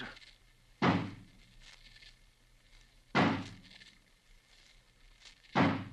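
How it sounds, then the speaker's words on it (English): A locked door smashed open with an axe as a 1940s radio drama sound effect: three heavy wooden blows land about two and a half seconds apart, each a loud thud with a short rattling decay. "Johnny, smash the door open for us."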